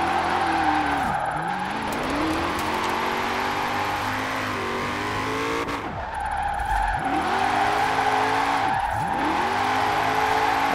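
A Chevrolet Camaro drifts in Forza Horizon 4 with its engine revving steadily, as tires squeal in long sliding sweeps that repeat through several drift transitions, loud and close, with no voices.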